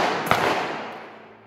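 A single sharp gunshot cracks out during an outdoor Western stage show, loud and close, followed by a long echoing decay that fades over about a second.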